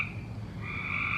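Frogs croaking outdoors in a dense, continuous chorus of overlapping calls, steady throughout and swelling a little louder in the second half, with no voices.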